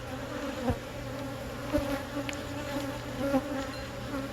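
Honeybees in an opened backyard beehive buzz steadily in a dense, humming drone, close and continuous, with a few soft knocks from handling the frames and no speech.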